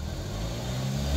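A 1990 Toyota Starlet engine revs under throttle, a steady mid-pitched rumble that swells slightly toward the end of the short burst, close and continuous.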